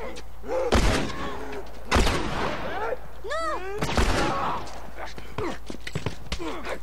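Several sharp gunshot bursts from The Last of Us video game ring out at intervals, loud and punchy, mixed with excited talking throughout.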